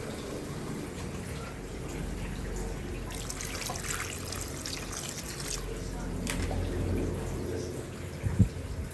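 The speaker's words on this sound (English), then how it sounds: "So now I will add some water. Enough water just to cover it." Water pours from a container into a pot of curried goat with bone, a steady liquid splash and trickle running under a kitchen's background noise for several seconds.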